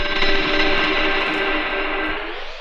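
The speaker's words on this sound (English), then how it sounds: "So if I turn on reverb here" A sample playing in the LANDR Sampler plugin with its reverb effect switched on gives a steady, sustained tone with a washy tail, holding at even loudness and fading slightly toward the end, with no voices.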